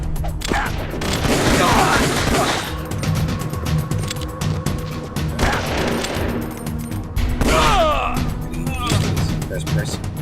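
Gunfire in the video game Metal Gear Solid: The Twin Snakes, loud bursts and sustained volleys of shots mixed with explosive booms and game music, with voices talking over the action throughout.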